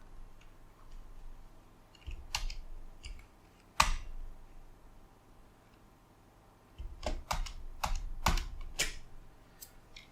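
Computer keyboard typing in a Linux Mint terminal: short bursts of crisp key clicks, close and alone, separated by quiet pauses.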